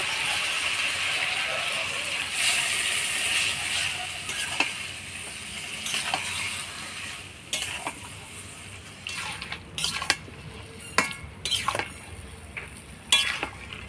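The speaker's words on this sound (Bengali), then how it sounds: "সরষে বাটা দিয়ে অল্প জল দিয়ে নাড়াচাড়া করে নিলাম।" Mustard paste thinned with a little water and stirred in a pan for a dried-fish and Malabar spinach dish: a gentle sizzle at first, then sharp, irregular scrapes and clinks of a spoon against the pan, close by, with no voices.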